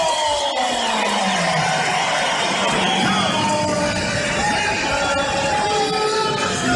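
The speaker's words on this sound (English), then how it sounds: "let you hear the crowd." Crowd at a college wrestling match between Oklahoma State and Oklahoma yelling and whooping in a dense, sustained roar that fills the arena, loud and continuous throughout.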